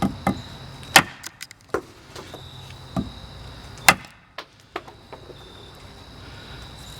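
A Lon Humphrey Gunfighter Bowie knife chops wood outdoors in a series of sharp, irregularly spaced thwacks, a few hitting hard and the rest lighter, over a quiet background with a steady insect-like whine.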